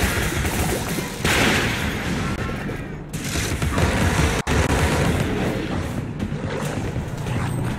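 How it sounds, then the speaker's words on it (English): Sustained, dense machine gun fire from the video game Alice: Madness Returns, loud and continuous for the whole stretch, with booming blasts layered through it and one sharp break partway. "Feel the pain of the machine gun!"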